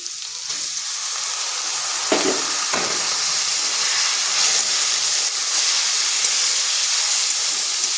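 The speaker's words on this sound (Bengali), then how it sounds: "পেঁয়াজটা যখন হালকা লালচে হয়ে আসবে তখন দিয়ে দিচ্ছি ওই ভেজানো ডালগুলো।" Soaked lentils tipped into a pan of onions frying until lightly reddish, cooked for a kalmi shak dish; a steady close sizzle and hiss flares with two brief bursts as the lentils hit the oil, then settles into continuous frying.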